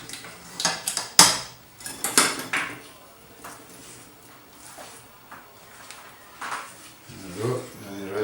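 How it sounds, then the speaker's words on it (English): A spatula scrapes around the edges of a pan of Scottish tablet, giving a few loud metallic scrapes and clatters early on, then quieter, irregular scraping and knocks close by. "just take a spatula and just go around the edges to take off any build up of crystals"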